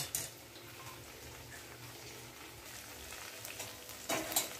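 Green chilies sizzle steadily in a hot frying pan while being stirred, a continuous close frying hiss with scraping stir sounds and a louder clatter near the end.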